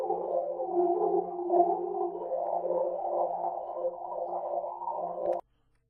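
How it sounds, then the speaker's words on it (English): A smeared, watery trombone tone through convolution reverb swirls with bubbly, warbling texture for about five seconds, then cuts off abruptly to silence. "a kind of bubbly trombone"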